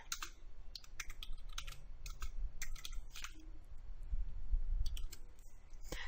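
Rapid clicking of a computer keyboard while composing a letter, with irregular bursts of keystrokes, close and fairly quiet, and short pauses between runs.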